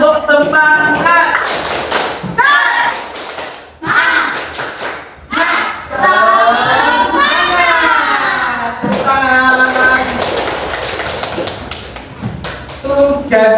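A classroom of students performs the rhythmic spirit clap (tepuk semangat), loud, close group chanting punctuated by clapping, with short pauses between phrases.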